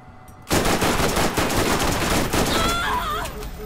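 Rapid pistol gunfire in the Borderlands shooter game: a dense, loud burst of shots starts abruptly and runs on steadily, with creature squeals and game effects layered near the end.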